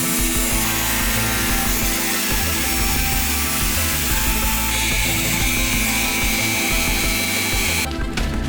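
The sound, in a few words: cutting out rusty metal on a Toyota Troopy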